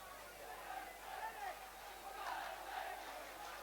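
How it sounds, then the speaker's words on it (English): A football crowd at a junior cup final roars and chants in the distance, a steady faint swell of massed voices with rising shouts. "Listen to that crowd."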